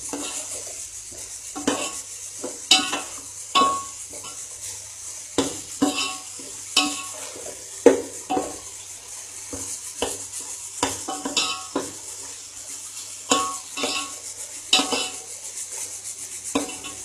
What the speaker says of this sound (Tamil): தக்காளி வந்து நல்லா குழைய வதங்கணும்.